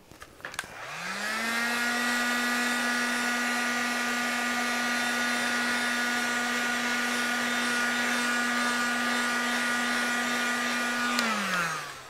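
A hair dryer blows on wet paint in an abstract art journal, starting up, running as a steady loud whir for about ten seconds, then winding down, with no talk over it.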